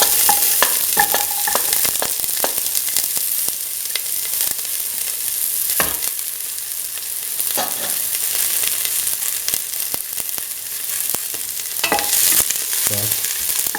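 Onion pieces and shallots fry and sizzle in a pan, a steady close hiss broken by repeated scraping clinks of a utensil stirring, with no talking.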